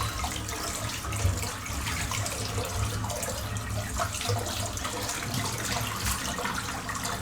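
A triple-head razor is rinsed under a running tap, with water hissing and splashing continuously into a sink, close and steady throughout.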